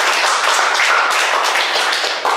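A church congregation claps together in a dense, steady burst of many hands, close and lively, with no talk over it.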